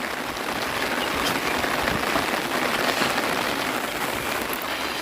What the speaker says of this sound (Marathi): पावसाचा जोर तर वाढत चालला आहे